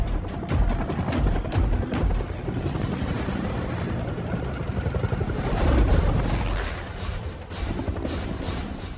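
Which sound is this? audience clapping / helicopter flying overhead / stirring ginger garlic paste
helicopter flying overhead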